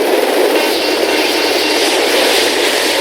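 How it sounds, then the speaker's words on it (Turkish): Enemy helicopters in the Call of Duty video game, a steady loud rotor and engine roar with a low droning hum, continuous throughout with no talk. "Hava sahanızda birden fazla düşman helikopteri görüyoruz."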